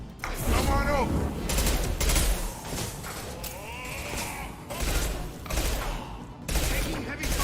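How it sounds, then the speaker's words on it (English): Gunfire in a Mass Effect 2 firefight, dense bursts of shots and impacts layered with combat music and effects, loud and continuous, with voices calling out over the fighting. "Taking heavy fire!"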